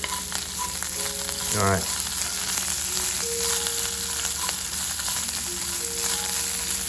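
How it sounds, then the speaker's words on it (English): Food sautéing in oil in a pan heating toward medium high, a steady broadband sizzle running throughout with a brief clatter of stirring near the start and a short spoken remark. "Let that saute a little bit until I see the oil start smoking."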